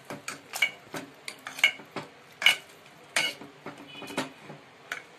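A masher squashes boiled pav bhaji vegetables in a pot, giving a series of irregular clanking, squelching strikes with metallic rings, fairly close and quiet, no speech.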